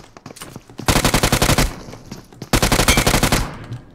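Two long bursts of rapid M2 machine gun fire in PUBG Mobile on the Erangel map, loud and close, each volley a steady rattle of shots separated by a short pause, with softer scattered shots before the first burst.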